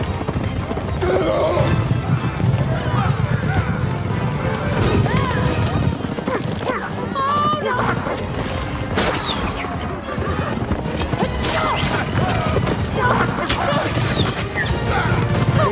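A horse gallops in a fantasy adventure scene, with hoofbeats, a whinny and crashing impacts buried in a loud, busy mix of dramatic music and voices.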